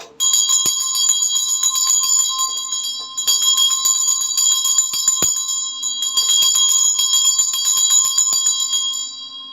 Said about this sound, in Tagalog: magre-ring ako ng Tibetan bell to cleanse my space